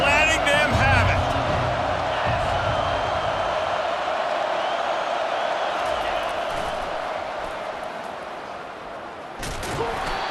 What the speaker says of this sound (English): this crowd is letting them have it